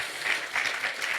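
Wedding guests clap together in a soft, steady patter of applause, moderately distant and brief, with no voices standing out.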